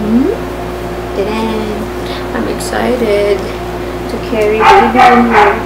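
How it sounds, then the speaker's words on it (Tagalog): A dog yips and whimpers in short bursts under someone talking, with a steady background hum. "Oh, yung ingay ng aso."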